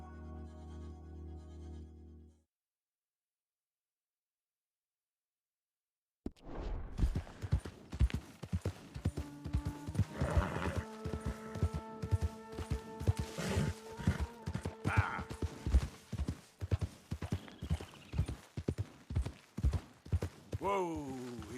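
Horse hooves clip-clop steadily in Red Dead Redemption 2, with a neigh or two rising over the rhythmic footfalls after a brief silence; game sounds fill the background.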